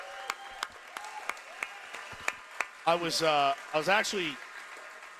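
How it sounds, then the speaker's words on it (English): Brewery crowd at a baseball preview event applauding San Diego pitcher Joe Musgrove, sparse claps at first and then a brief louder swell of clapping and cheering over a voice. "Let's give him a massive, massive round of applause"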